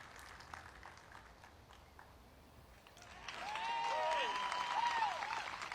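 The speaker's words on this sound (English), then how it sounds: "the home crowd is cheering for Silva really hard at this moment" Home crowd at the 2024 European Open disc golf final round, women's division, reacting to a shot at the island hole 16: quiet at first, then a loud burst of cheering and sustained applause from distant spectators.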